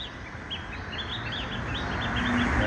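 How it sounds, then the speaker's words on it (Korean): Two birds chirp along the steep cliffs of the Yangtze Three Gorges, a series of short, bright, high tweets repeating across the clip over a steady outdoor background hum, with no talking. "아, 새들. 새 두 마리."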